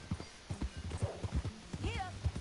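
Hooves clip-clop in a quick, steady rhythm as a horse rides in Red Dead Redemption 2, with a short whinny near the end and voices talking over the hoofbeats.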